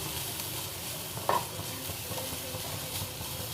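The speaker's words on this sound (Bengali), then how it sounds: "এটাকে আমি হালকা 2 থেকে 3 মিনিট আমি নাড়িয়ে নেব।" Semolina is stirred in a pan for rava idli, heard as a steady close frying hiss with soft scraping of the spoon and a single brief clink.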